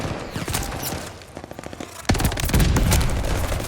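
Rapid bursts of AS44 assault rifle fire in a multiplayer first-person shooter, loud and close, with chattering automatic volleys layered over distant gunfire and explosions.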